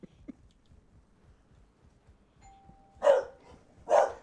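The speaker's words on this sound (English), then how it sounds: "He just heard the doorbell." A doorbell sounds with two quick chimes, a faint tone leading in, set against a quiet room with a few soft knocks.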